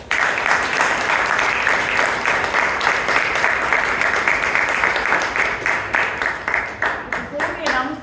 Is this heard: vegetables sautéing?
no